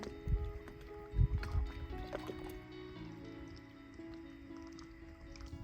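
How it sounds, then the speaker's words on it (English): Water laps gently against rocks at a wilderness spot where a small radio-controlled crawler is driving, giving soft irregular splashes up close under a faint whine from its electric motor. "you even hear the water lapping off the rocks here"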